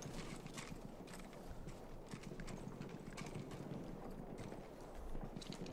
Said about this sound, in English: Ooh, a horsey.